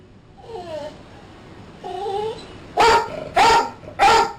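A caged dog barks for attention, first with a couple of softer, whining yelps, then three loud, sharp barks in quick succession, close and alone with no talk.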